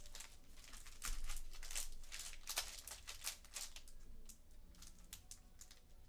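Formula 1 trading card packs being shuffled by hand, a dense run of crisp crinkling and flicking foil wrappers, close and fairly loud, with no talking.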